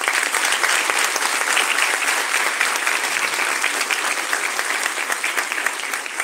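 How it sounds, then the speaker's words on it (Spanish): Loud, continuous applause from a congress audience at an opening ceremony, many hands clapping in a thick, even roar that never lets up. "un fuerte aplauso para los dos"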